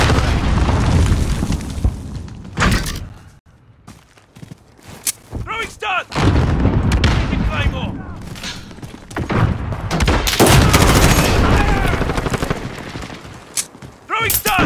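Call of Duty Modern Warfare gameplay on Xbox Series X: loud, dense bursts of gunfire and booming explosions including a mine blast, rapid irregular shots with brief lulls between heavy salvos, and a faint voice mixed in.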